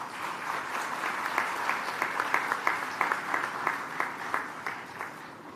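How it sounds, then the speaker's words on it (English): A college audience at Sri Venkateswara College, Delhi University, applauds to welcome Australia's education minister, with sustained, even clapping from a sizeable crowd heard on its own at moderate volume. "Welcome him with a round of applause."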